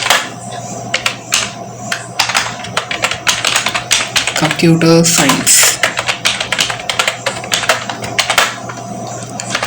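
Fast, uneven clicking of a computer keyboard as code is typed, with close, crisp keystrokes continuing under a person speaking.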